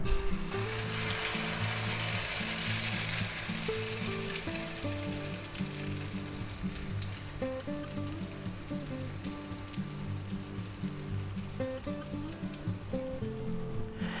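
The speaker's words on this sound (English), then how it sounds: "now we're going to take our egg mixture and put that right in there" Egg mixture frying in an oiled pan gives a dense, steady sizzle and crackle that runs evenly throughout, close and continuous, with a soft musical tone humming underneath and no talking.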